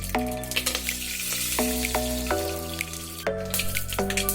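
Mustard seeds and curry leaves sizzle in hot oil for cabbage kootu, a steady close crackle broken by sharp pops and spatters, with a sustained musical tone running underneath.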